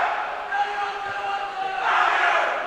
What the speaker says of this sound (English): They're cheering.